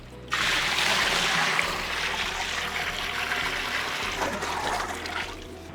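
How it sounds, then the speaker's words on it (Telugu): Water pours steadily into a pot of fried mint, onion, green chilies and garam masala for mutton curry, a continuous rushing splash that stays loud for several seconds and then softens slightly. "దీంట్లోనే మనం రైస్ క్వాంటిటీని బట్టి వాటర్ యాడ్ చేద్దాం"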